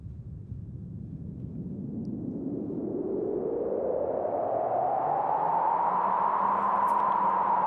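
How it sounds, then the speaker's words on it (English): Steady synthesizer wind effect made from a sine wave passed through a filter, a continuous hissing wash whose pitch sweeps slowly upward and settles, growing steadily louder with no envelope shaping, alone without talk. "you get a traditional wind sound effect"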